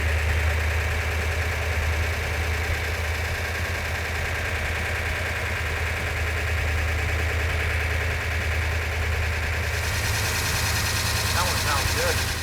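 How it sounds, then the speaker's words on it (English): A 1970 Plymouth 'Cuda engine runs steadily with a deep, rumbling idle and choppy, loping pulses, loud and close throughout without breaks. "The engine sounds every bit as good as it did when it was on the engine run stand."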